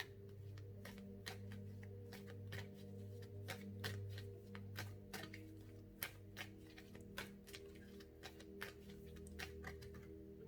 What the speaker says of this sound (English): I want to shuffle from the Kitsune Oracle deck